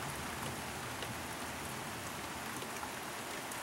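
Heavy, steady rain pours down throughout a tropical storm, a dense continuous hiss with low rumbling underneath and no break or voices.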